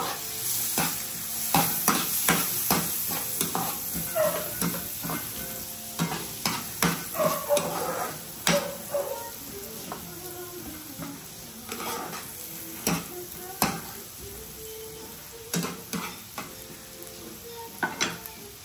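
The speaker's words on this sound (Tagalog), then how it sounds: "Bawang at sibuyas. Pangalawang gisa na natin to guys" Garlic and onion sautéed in a pan for stuffed squid, with a constant sizzle broken by many sharp clicks and scrapes of a utensil against the pan at an uneven pace, close up and without talking.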